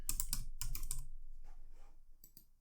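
Fingers on a computer keyboard during a networking exercise, two quick loud bursts of close key clicks, then softer scattered taps fading out, with a last pair of light presses near the end.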